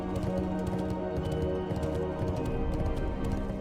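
Galloping hooves of a Death Knight's horse mount in World of Warcraft: Wrath of the Lich King, a rapid, even clip-clop rhythm over a steady game soundscape, close and continuous with no talk.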